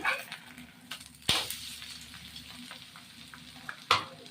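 An egg omelette fries in oil in a pan and gets flipped, giving a steady soft sizzle with a couple of sharp clattering knocks from the pan and spatula.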